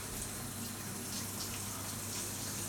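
Water runs steadily from a kitchen tap into a measuring container during Sunday lunch preparation, a quiet continuous gushing stream with no talk.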